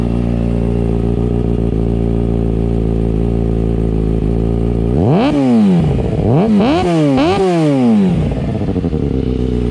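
A motorcycle with a slip-on exhaust idles steadily, then revs hard several times in quick succession, the loud exhaust rising and falling with each blip of the throttle.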